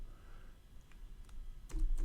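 Keys clack on a computer keyboard in a few quick, faint taps near the end, close by in a quiet room with low background hum and no talking.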